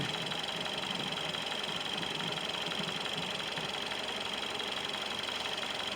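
A Ford Escape engine with a blown head gasket and cracked head runs rough in a steady, moderately quiet drone with an uneven knocking undertone, no talk.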